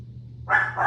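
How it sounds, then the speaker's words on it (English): Two quick barks from a nearby dog after a brief moment of quiet, the second slightly softer than the first. "Sorry, excuse the barking."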